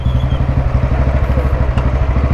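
Vintage Royal Enfield Bullet C single-cylinder engine running through an old-style silencer, a steady deep thumping exhaust beat with regular rhythmic pulses, close and loud throughout.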